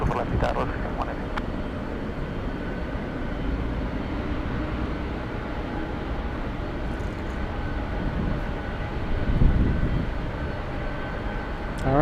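A large airliner takes off from runway 24 left at LAX, a broad, distant rumble that swells gradually toward the end, alongside intermittent radio voices.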